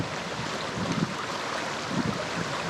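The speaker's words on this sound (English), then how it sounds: "Listen to the flowing rapids." Rapids in Blackwater Creek at a nature preserve rush in a continuous broadband wash of flowing water, steady and fairly close, with no voices over it.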